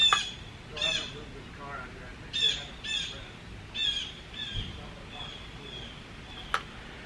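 A bird calls outdoors in a suburban neighbourhood, repeating bright, chirpy squawks in short bursts about once a second over steady background noise.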